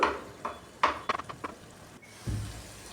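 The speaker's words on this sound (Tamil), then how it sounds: "அந்த இதெல்லாம் நல்லா உடச்சி விட்டு வதக்கிக்கணும்" Scrambled eggs, four cracked into a pan, broken up and stirred while frying for mushroom egg fried rice, with several close scraping and clinking strokes of a utensil against the pan over a faint sizzle.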